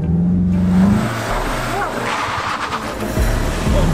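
A 2019 Volkswagen Golf GTI launches from a standing start in a drag race, the engine note rising and revving loudly through the run with a voice heard briefly over it.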